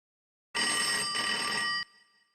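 A telephone rings once with a loud, bright electronic tone that lasts just over a second and then cuts off, leaving near silence with no voices, in an Indian TV sitcom scene.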